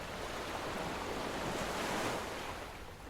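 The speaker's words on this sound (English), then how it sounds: "And then the tide rolls back out." Ocean surf rolling in and out, a continuous loud wash of breaking waves with some wind noise that swells slightly and then eases back, with no voices.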